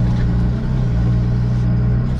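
A tractor pulling a plough across a field gives a close, loud, continuous engine drone with a steady low rumble and no other sound.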